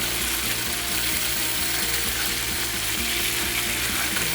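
Pork chops fry in a pan with a loud, steady sizzle and crackle. Beneath it runs a faint rhythmic ticking, and no one speaks.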